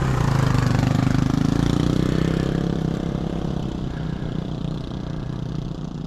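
A steady, throbbing canal boat engine drones close by, loud at first and easing slightly as it continues, with no voices over it.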